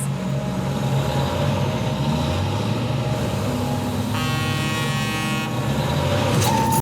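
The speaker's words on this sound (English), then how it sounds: "the truck pulls over to pass" Road traffic with a truck passing a car, a steady broad engine and tire rumble throughout, with a brief horn-like tonal burst near the end of the pass, heard alone without talk.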